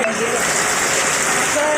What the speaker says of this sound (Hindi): सब झीले वर्षा जोरदार है